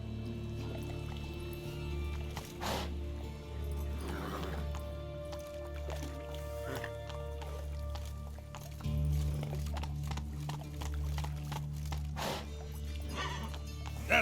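Roach, the horse in The Witcher 3: Wild Hunt, gallops with continuous muffled hoofbeats under a steady game soundtrack and ambient drone, with a few sharper thuds scattered through.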